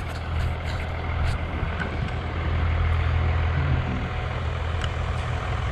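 A 12-valve Cummins diesel truck with a five-speed runs steadily on a snowy driveway, a loud continuous low engine rumble close by with faint higher clicks over it and no talk.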